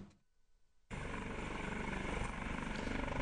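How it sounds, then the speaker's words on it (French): A new Dauphin helicopter of the Côte d'Ivoire national police roars up abruptly after a quiet moment, its loud, dense rotor and engine noise holding steady to the end. "La police nationale de Côte d'Ivoire a désormais son premier hélicoptère."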